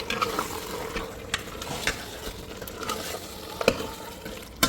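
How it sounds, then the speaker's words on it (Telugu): Mutton sizzles in hot oil while a spoon scrapes and clatters against the pan in irregular stirring strokes. "కొంచెం ఆయిల్లో ఫ్రై అయిందో లేదో కొంచెం చూసుకోండి ఒకసారి కలిపేసి"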